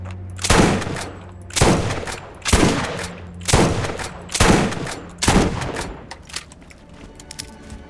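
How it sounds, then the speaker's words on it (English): Six loud shotgun blasts fire at a steady pace of roughly one per second, each with a sharp crack and a short echoing decay, in a shooting session with no talking. "I've noticed a lot of people when they use shotguns, they'll go like this when they shoot."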